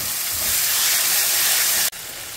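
Onion and tomato deep-frying in a pan for a vaval fish curry give a loud, steady close-up sizzle and hiss that cuts off abruptly near the end.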